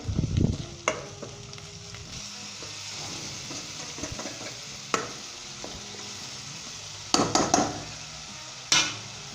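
Spices stirred into a frying green chickpea gravy, a Punjabi cholia curry, with a steady low sizzle and a few sharp scrapes and clinks of a spoon against the pan, all close and with no talking.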